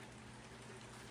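Steady rain falls continuously, a dense even hiss of drops on surfaces with no voices.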